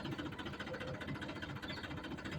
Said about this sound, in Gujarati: આ બાજુ આપણે ટ્રેક્ટર ચલાવીને જવાનું છે સવારમાં.